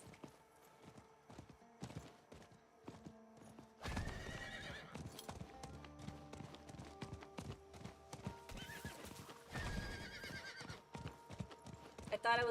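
A horse in the video game Diablo IV trots with steady, rhythmic hoof clip-clops and lets out a loud whinny, all layered with dense game music and effects.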